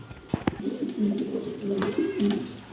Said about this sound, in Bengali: মালটেস মাদি কবুতরটা ব্ল্যাক কালার